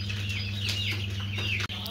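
Broiler chickens on a poultry farm cluck and call over a steady low electrical hum, several birds overlapping at close range with an occasional wing flap.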